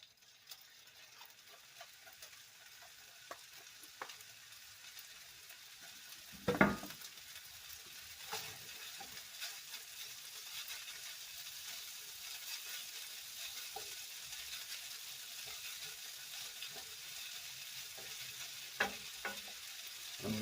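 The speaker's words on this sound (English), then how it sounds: "I'm going to go ahead and put my hash browns into the skillet that's nice and hot with the butter" Hash browns frying in hot butter in a skillet give a steady, faint sizzle with occasional louder pops and crackles, the loudest near the middle and the end, with no voices.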